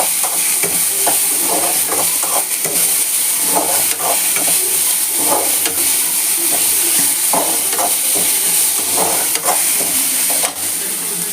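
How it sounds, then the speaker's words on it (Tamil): Onions, tomatoes, ten cloves of garlic and ginger sauté in a pan for paneer butter masala, giving a loud, steady sizzle with regular clicks and scrapes of a spoon stirring throughout. "எல்லாத்தையும் போட்டு நல்லா வதக்க வேண்டியதுதான்."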